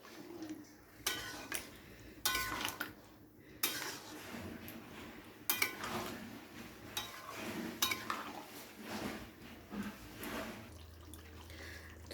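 Mutton being stirred with bhuna spice in a pot, with faint repeated scraping and clinking of a spoon against metal in irregular strokes, quiet and close with soft wet shuffling between.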